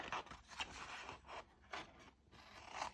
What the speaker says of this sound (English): I'm going to cut all the way down to the score line here